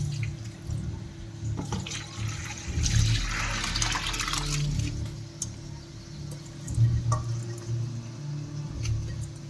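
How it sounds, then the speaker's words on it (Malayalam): Water being poured off soaked rice for biriyani, a close splashing pour that swells and eases in waves with small clinks, with no one talking. "അരമണിക്കൂർ കഴിഞ്ഞ് വെള്ളം നമ്മൾ അതിൽ ഊറ്റി വയ്ക്കാൻ പോവാണ്."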